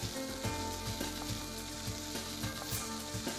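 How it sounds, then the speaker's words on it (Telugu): Onion pieces fry in tempering oil with a pinch of salt, giving a steady quiet sizzle with regular light clicks of stirring running through it. "పోపు ఫ్రై అయిన తర్వాత మనం ఉల్లిపాయ ముక్కలు వేసుకుందాం."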